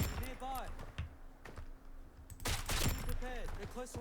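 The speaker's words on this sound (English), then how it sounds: "Base, we're under attack. Multiple gunshots heard." Gunfire in the video game BRM5 (Blackhawk Rescue Mission 5) cracks out in several bursts of sharp shots, loud and close, over in-game background noise.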